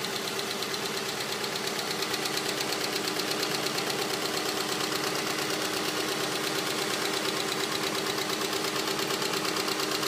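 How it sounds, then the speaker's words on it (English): Lifter noise from a 1994 Subaru EJ22T engine running at idle: a rapid, even ticking clatter over a steady engine drone, close and continuous throughout with no talk. "trying to get rid of some lifter noise here"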